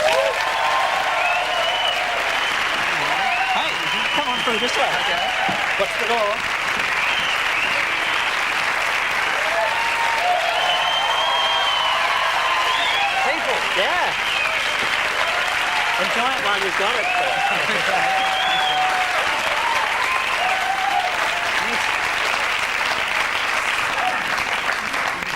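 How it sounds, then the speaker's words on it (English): A TV talk show studio audience applauds steadily for a long stretch as a guest comes on, with people talking and calling out over the sustained clapping. "Of course, that applause may never happen again to you"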